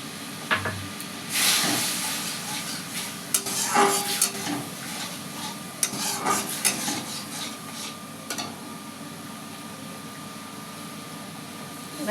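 Tamarind water poured into a hot pan for a chicken momo sauce, letting out a sudden loud sizzle that settles into a steady hiss with scraping stirring strokes, close up, with faint talk in the background.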